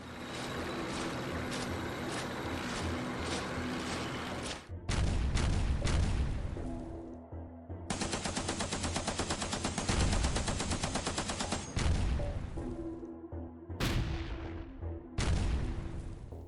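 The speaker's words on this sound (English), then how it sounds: "Red mortar sections fire their first rounds." Mortar rounds and other weapons firing in a WWII German armoured wargame battle, heard as dense, loud bursts of overlapping gunfire and heavy rumbling blasts throughout, with short breaks between volleys.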